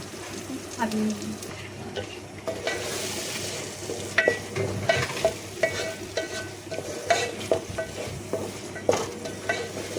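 Raw beaten eggs stirred in a pan over a high flame, a steady frying sizzle broken by scraping spatula strokes; a voice talks over it.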